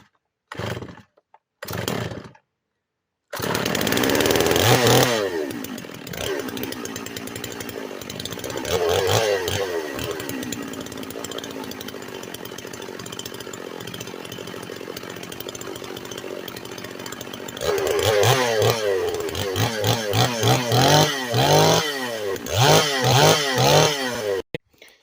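A Holzfforma chainsaw is yanked with a few short pull-start bursts, then fires and runs. It idles steadily and revs up repeatedly in rising surges near the end, loud and close.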